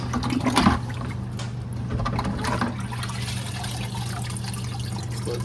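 Water drains and trickles from a Nio bean to cup coffee machine, a steady close gurgling flow with a low hum beneath, slightly louder at first, with no voices.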